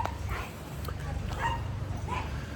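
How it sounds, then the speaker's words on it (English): Several dogs bark and yip in short scattered bursts over a low steady rumble of background noise, moderately distant and fairly faint. "These dogs are going off."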